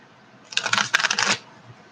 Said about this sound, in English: So I'm going to have to shuffle these really good.